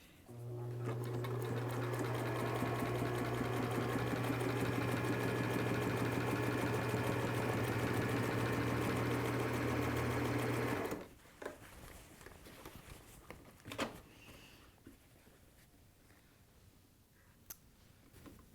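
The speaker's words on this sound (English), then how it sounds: "we're going to sew from one end of the band to the other end" A sewing machine stitches along a hat band for a cap, running steadily and close for about eleven seconds before stopping, followed by quiet handling noises and faint clicks.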